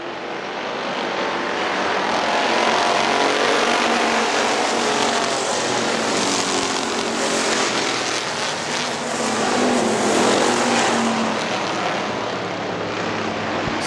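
Factory stock race cars at Hartford Speedway roar past in a continuous loud engine drone that swells and eases as the pack circles, with no talk over it.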